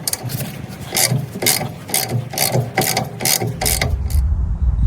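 A ratchet wrench clicks in quick repeated strokes, loud and close, loosening a bolt on the steering knuckle of a Mercedes W124 front axle, with no talking over it.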